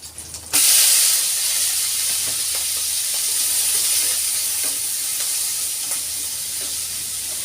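Cauliflower florets stir-fried in a hot wok after the shrimp have been lifted out, a loud steady sizzle and hiss from start to finish with light scraping stirs, no voices.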